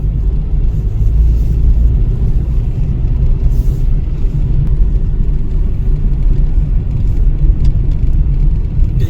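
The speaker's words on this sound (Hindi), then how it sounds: "एक ही टैक्सी नंबर वैगनर भी आ रही है" Wagon R taxi from Meerut approaching on a forest road: a steady loud low rumble of a car engine and tyres building close, with no voices.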